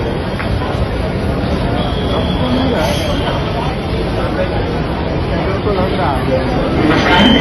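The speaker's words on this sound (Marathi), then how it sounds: "मुंबई छत्रपति शिवाजी महाराज टर्मिनस जाने वाली ट्रेन लोकल है" A Mumbai suburban local train bound for Chhatrapati Shivaji Maharaj Terminus pulls into Dombivli station with a loud, steady rumble and rolling noise under constant crowd chatter on the platform.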